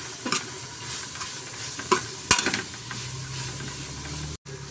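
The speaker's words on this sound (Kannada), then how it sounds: "ಬೇಳೆ ಸೇರಿಸಿ ಮಿಕ್ಸ್ ಮಾಡ್ಕೊಳ್ಳೋಣ." A spoon stirs lentils into a pan of mixed greens for sambar over steady frying sizzle, with scraping strokes and a few sharp clinks against the pan. No one speaks.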